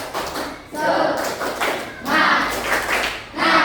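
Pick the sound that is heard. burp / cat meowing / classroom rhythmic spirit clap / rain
classroom rhythmic spirit clap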